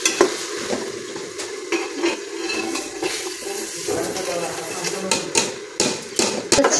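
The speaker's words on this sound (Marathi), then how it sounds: "आता हे तांदूळ कधी तेलामध्ये चांगलं भाजून घ्यायचं" Rice roasts in oil in a pot while being stirred, with scraping and clinking of a utensil against the metal over a soft sizzle. Some watery, rushing background sound blurs it.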